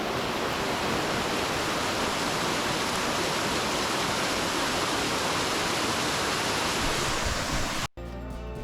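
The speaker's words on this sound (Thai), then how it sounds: "เอาเป็นว่าเดี๋ยวเราไปดูความสวยงามของน้ำตกชั้นสุดท้ายกันดีกว่าครับ และนี่ครับต้นน้ำของน้ำตกเขาน้ำโจรครับ" The headwaters of Khao Nam Chon waterfall in Nakhon Nayok rush in a constant, loud broadband roar like surf, then cut off abruptly near the end into a quieter, different sound.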